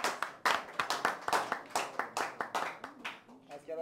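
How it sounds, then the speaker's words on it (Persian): A live audience claps for a player leaving a tournament round of the Mafia party game, with several quick bursts of close hand clapping in an uneven rhythm and a brief voice near the end. "تشویق کنیم آقای مصطفی رو از بازی بره"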